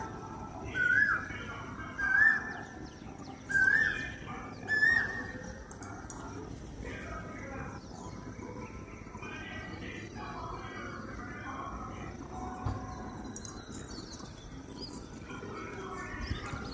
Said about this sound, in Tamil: கேட்டிங்களா எவ்வளவு இனிமையாக இருக்குன்னு இந்த குயில்